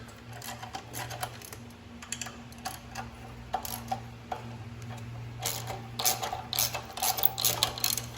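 Ratchet wrench with a 13 mm socket breaking loose turbo bracket bolts on a Fiat 500 Abarth: uneven bursts of close, sharp clicking that grow busier toward the end, over a steady low engine-bay hum, with no voices.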